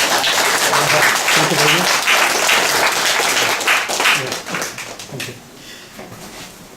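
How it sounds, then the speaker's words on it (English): An audience applauds after a history talk on the March 1 Independence Movement, dense sustained clapping that fills the room and then thins and fades toward the end, with a brief spoken thanks over it. "now I know we just clapped, but please, one more time, help us show our appreciation"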